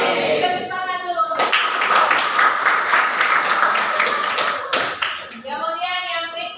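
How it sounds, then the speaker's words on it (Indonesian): A vocational-school class applauds, with a burst of hand clapping in the middle while a voice talks before and after it. "Tepuk tangan dulu."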